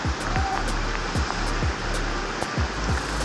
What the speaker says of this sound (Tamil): அப்படியே சவுண்டெல்லாம் கேட்குதா? ஃபால்ஸ் சவுண்டு செமையாக இருக்குல்ல.